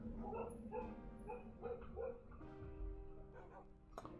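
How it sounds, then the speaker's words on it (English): Dogs in the modded Minecraft world IsolationCraft give repeated short yips and whimpering barks in an uneven rhythm, fairly faint and close together, with a sustained tone underneath. "Dogs are going stupid."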